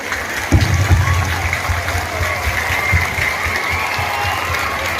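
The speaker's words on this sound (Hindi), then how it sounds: "बच्चे, मैं चाहती हूँ कि सम्मान में इतनी जोरदार तालियां बजाओ कि पूरा दाऊद नगर को सुनाई दे।" Children clap loudly for their teachers at a Teacher's Day school event, a dense, sustained round of applause with some cheering that carries steadily throughout.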